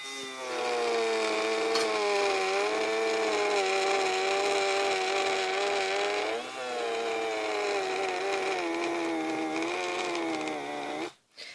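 A Sumo Grip EE3000 electric eraser runs continuously with a loud, steady buzzing motor whine, dipping slightly in pitch under pressure around the middle and cutting off briefly near the end.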